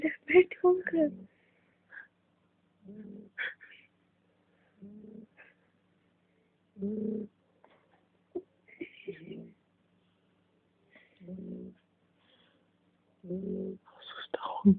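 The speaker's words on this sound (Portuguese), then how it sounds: "Como ele pode estar com o olho aberto e roncando?" A female cat snoring with her eyes open, giving soft, low, breathy snores repeating at a slow, steady rhythm, close and quiet, with a person whispering between some of them.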